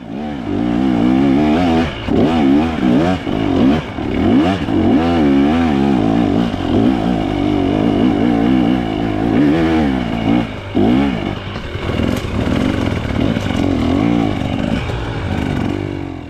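An off-road motorcycle revs hard while climbing a steep trail hill, its engine roaring loudly and unevenly with repeated throttle surges and clattering, close by throughout.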